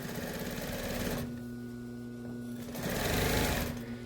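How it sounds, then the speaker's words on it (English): A sewing machine stitches replacement topstitching on a garment, running in two close bursts of rapid, even mechanical chatter separated by a short pause. "I'm going to make sure everything's nice and smooth before I stitch on top."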